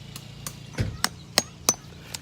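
Plastic stakes are hammered into hard, solid ground on a hot July day, giving about half a dozen sharp, separate knocking blows at an uneven pace, close by and fairly quiet.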